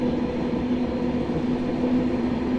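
The Ahmedabad Express, train 19484, running through a curving ghat section, a loud continuous rumble with a steady droning hum heard from on board, with no voices.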